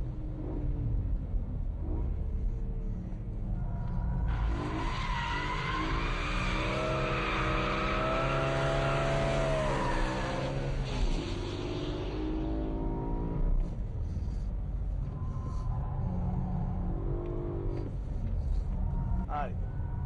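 A BMW M3 engine revving up toward 8000 rpm on a track, climbing in a rising, strained whine in the middle of the run, with tyre noise and a steady loud roar throughout.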